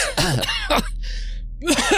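A voice gives a few rough, imitated coughs and throat-clearing grunts during a Dungeons & Dragons game, short bursts close to the mic with a brief pause between.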